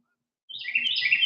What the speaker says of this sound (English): I am really enjoying the birds this morning